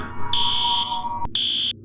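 Shrill electronic alarm in an abandoned Disney-themed horror game, blaring in loud high-pitched bursts with a brief cutoff between them before the tone resumes and stops abruptly.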